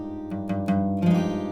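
An acoustic guitar chord strummed with the low sixth string accidentally included, a few close strokes ringing on with sustained resonance, played alone with no voice.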